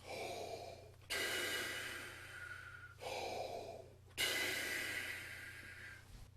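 A brass player's deep breathing exercise, straight in and out: three long, loud breaths close up, each several seconds of steady rushing air with short pauses between.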